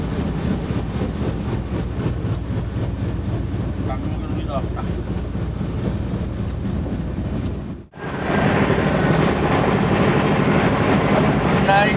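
An overnight train rumbles steadily along the tracks, heard from on board, with a constant, loud, broadband roar that briefly drops out and then returns just as strongly.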